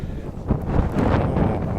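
Wind gusts buffet a solar power installation whose roof has been punctured by a fallen block, producing a loud, rough, fluctuating rush close to the microphone for a couple of seconds.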